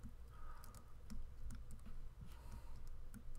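Keys on a computer keyboard are tapped in quick, irregular clusters while the game Gear Up plays, faint close clicks over a low hum.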